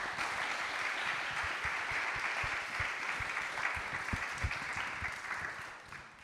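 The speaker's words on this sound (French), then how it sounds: "Enfin, on peut applaudir du coup nos trois intervenants." Applause from a seated audience at an innovation event on charging stations, thanking three speakers: a continuous wash of clapping, fairly quiet and distant, with a few louder nearby claps standing out.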